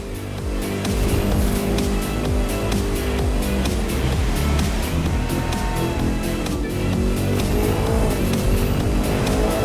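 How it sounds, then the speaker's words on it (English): Hypercars racing in The Crew 2 on the final stretch into downtown Miami, engines roaring loudly and continuously with high-pitched revving, gear shifts and passing whooshes throughout. "with those hypercars capable of speeds up to 450 kilometers per hour"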